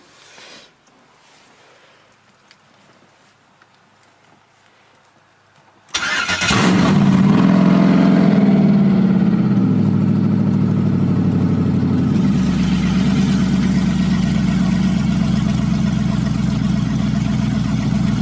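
A Pontiac Firebird with a swapped 5.3 LS V8 cold-starts after a few quiet seconds, cranking into a loud, steady high idle that settles slightly lower partway through, running alone with no talk.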